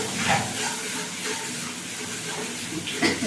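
Steady sizzling and hissing of food being stirred in hot oil while making a village-style bean bhorta, a continuous moderate crackle with no pauses.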